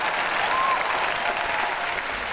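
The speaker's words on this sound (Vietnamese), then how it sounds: "chúng ta hãy cùng nổ một tràng pháo tay thật lớn cho chuyên gia trang điểm Fiona" A studio audience at a Vietnamese makeup and impersonation show gives a makeup artist a loud, continuous round of applause, a dense wash of clapping filling the whole moment.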